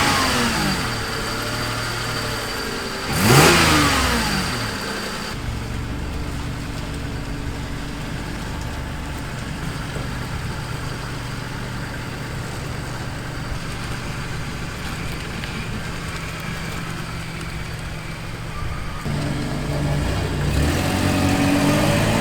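An old car's engine revs once sharply near the start with a rising whine, then settles into a steady idling rumble that swells slightly again toward the end, close by with no talk.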